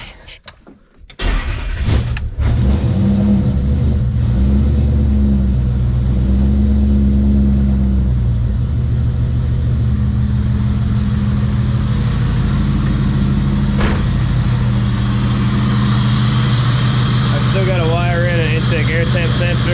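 Supercharged M122 1UZ V8 swapped into a Nissan 240SX, starting up then running with a loud, steady idle and brief revs, close by and continuous throughout with no talk over it.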